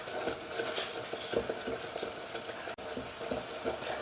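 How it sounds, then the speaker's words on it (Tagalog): Sticky rice cake sauce is stirred vigorously in a pan, a close scraping and bubbling sizzle with uneven strokes and one brief dropout. "Stir vigorously to stop from burning."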